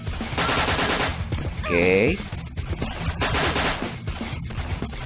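Rapid bursts of gunfire from the video game Banzai Escape crackle loudly in dense volleys, broken by a short tonal game sound effect, with a brief spoken word over the action.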